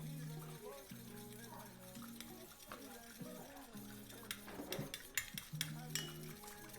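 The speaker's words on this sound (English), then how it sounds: "Make sure you guys stir really good so that fragrance oil can bind with that wax." Fragrance oil being stirred into melted virgin coconut soy wax for candles, with soft scraping and light clinks of the utensil against the container, under steady tonal background music.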